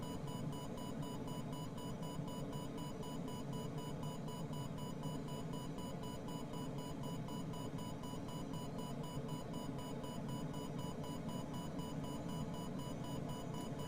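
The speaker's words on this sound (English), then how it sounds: "Listen to those beeps." Faint, rapid electronic beeping repeats steadily over a constant background hiss, like cockpit warning tones, from Microsoft Flight Simulator 2020 during a glider flight.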